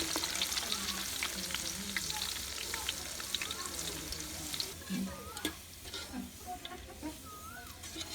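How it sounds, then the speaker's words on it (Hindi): Dried nuts frying in a pan for a Punjabi pulao give a steady, close sizzle with occasional stirring clicks, while faint clucking from chickens drifts in from somewhere nearby. "मेवे फ्राई कर लेंगे"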